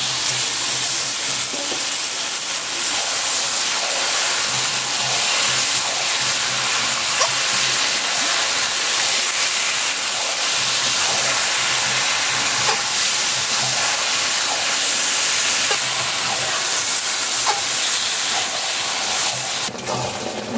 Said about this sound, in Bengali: পেঁয়াজ ভাজা হয়ে গেছে, মশলা রাখানো মাছটা দিয়ে দিচ্ছি